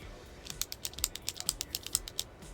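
A rapid series of small, crisp plastic clicks, close and quiet, repeating about a dozen times in a quick steady rhythm.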